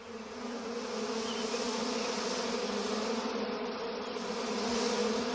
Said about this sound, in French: Barrez-vous de mon sucre, méchante abeille méchante!